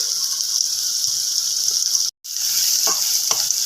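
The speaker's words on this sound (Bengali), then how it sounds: "পেঁয়াজ ভালোভাবে একটু নাড়াচাড়া করে নেওয়া হচ্ছে একটু ভেজে নেওয়া হচ্ছে" Onion sizzles steadily in a hot pan with turmeric and salt, being stirred, a bright continuous frying hiss broken by one brief silent gap.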